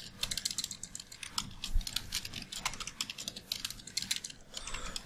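Code being typed on a computer keyboard for an EJS template, a quick, fairly faint patter of close key clicks in uneven bursts, with no speech over it.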